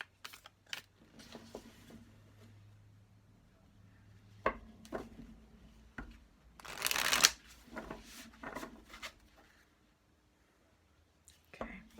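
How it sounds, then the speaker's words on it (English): Tarot cards being shuffled by hand, bursts of riffling and soft card slaps with quiet pauses between them, close and fairly faint, one louder flurry midway. "I'm trying to sense when to stop shuffling"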